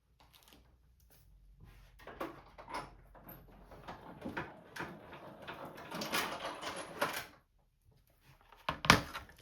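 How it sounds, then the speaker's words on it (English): Paper and a die are cranked through a manual die-cutting machine, giving a series of irregular rolling and creaking sounds that build over several seconds, with a short pause and a final louder clunk. "I'm going to send this through my machine."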